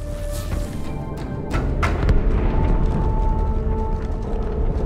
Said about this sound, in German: Die Explosion kam aus dem Innern der Athen, genau wie bei der Malta.